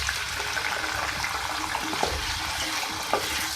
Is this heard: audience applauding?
no